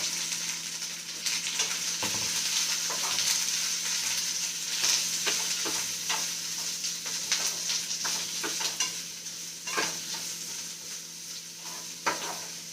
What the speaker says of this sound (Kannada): ಈಗ ಈ ಆನಿಯನ್ನು ನೀಟಾಗಿ ಫ್ರೈ ಮಾಡ್ಕೋಬೇಕು